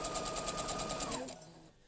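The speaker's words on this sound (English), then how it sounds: "I'm just stitching on that drawn line" Sewing machine stitching along a drawn line while chain piecing a quilt block, a fast steady whirring patter up close that winds down and stops near the end, with no talk.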